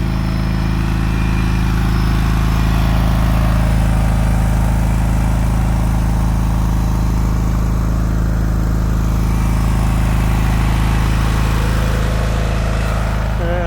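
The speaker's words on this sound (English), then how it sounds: "here they got the Cub Cadet running" A Cub Cadet tractor engine runs at a steady idle, a continuous low throb and rumble that holds unchanged throughout at an outdoor farm auction, with no voices over it.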